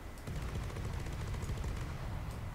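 An advanced cannon turret in the game From The Depths, a twin APS setup firing at a very high rate, lets off a dense, continuous roar of rapid gunfire that stays loud and steady throughout, with no voices.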